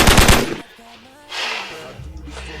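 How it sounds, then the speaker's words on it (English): A machine-gun fire sound effect erupts in a loud, rapid burst of gunshots at the start, then after a short lull a second, softer spray of fire follows with rattling tails. "Gunshots."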